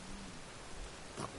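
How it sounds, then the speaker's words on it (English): Steady hiss of falling rain in The Witcher 3 fills the clip at low volume, with a brief brighter burst near the end and no voices. "And it's raining again."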